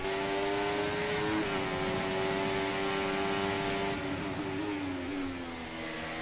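An F1 car engine in the F1 24 racing video game, driving the Singapore Grand Prix, gives a loud, steady, high-pitched drone with slight pitch dips, and no one speaks.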